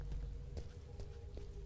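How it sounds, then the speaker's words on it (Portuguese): Rain falls in the horror video game Gehinnom. A soft, steady patter of drops on surfaces runs throughout with a few sharper taps over a low background hum, fairly faint, with no voices. "Tá chovendo."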